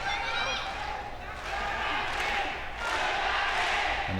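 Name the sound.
crowd chanting fighter Funaki's name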